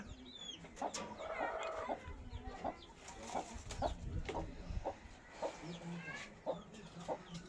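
Close, steady clucking from breeding hens kept on a farm, a run of short, uneven calls layered over one another without any voices.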